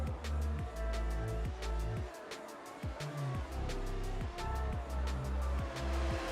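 Race cars scream down the main straight of a circuit in Mexico, engines droning loudly and continuously with repeated gear-change dips and overlapping passes close by.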